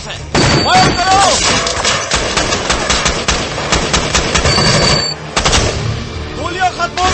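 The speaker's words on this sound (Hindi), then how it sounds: "फायर करो!" Sustained machine gun fire in an action movie battle scene, loud and dense rapid bursts with a few pauses, mixed with shouted voices, thumps and booms.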